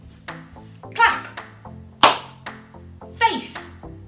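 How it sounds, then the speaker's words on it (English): Children clap along during a movement game, giving a few sharp, separate hand claps spaced about a second apart amid a voice and background music. "Clap."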